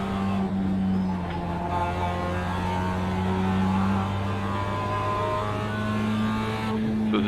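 A race car engine hums steadily on a warm-up lap in a racing video game, a sustained mid-pitched drone with slight shifts in revs and no sharp bursts, under no speech.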